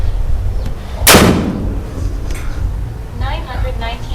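A Predator air rifle fitted with a Crossfire plenum fires one sharp, loud, close shot, with a voice talking around it.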